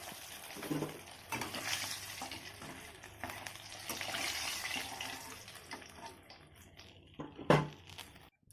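Fish heads from a rohu fry in hot oil in a wok, a softer uneven sizzle rising and falling with scattered clatters of a utensil and a sharp knock toward the end.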